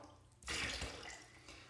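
Water poured off and splashing into a sink during a wet shave with a Classic Samurai butterfly razor, a sudden close broadband rush starting partway through and then tapering into a softer trickle, with no talking.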